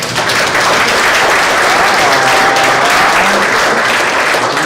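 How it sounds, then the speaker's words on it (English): Loud, continuous applause from a live audience, a thick roar of many hands clapping that holds steady throughout, with faint crowd murmur beneath. "can you give him a round of applause as well?"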